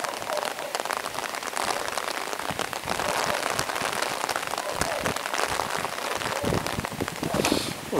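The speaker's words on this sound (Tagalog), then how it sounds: "Ulan talaga kalaban, ulan." Steady rain pouring down and pattering on surfaces, a dense, continuous hiss with scattered drops that stays fairly loud throughout, with no voices.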